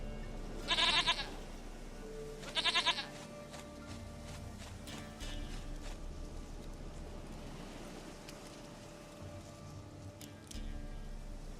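Goat bleats in The Witcher 3 video game: two loud, wavering bleats close together near the start, then quieter ambient farm background without talk.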